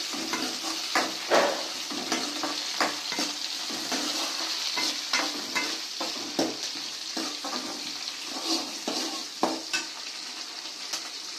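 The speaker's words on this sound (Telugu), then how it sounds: "కొంచెం సిమ్లో పెట్టుకొని వేయించుకుంటే మనకు దోరగా బాగా వేగుతాయి." Curry leaves frying and being stirred in hot oil for a Nellore-style mullet fish curry: a steady sizzle with repeated scraping stirs of a utensil against the pan, close up, with no talking.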